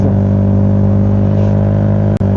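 Loud, steady motorcycle engine idling and revving close by, a deep rumbling drone that cuts out briefly near the end.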